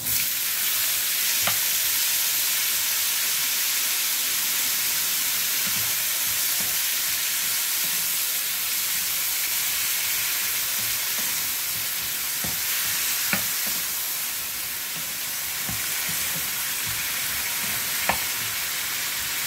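Squid and freshly added tomatoes sizzle steadily in a hot frying pan, a dense continuous hiss broken by a few sharp crackles and stirring scrapes, close and alone without voices.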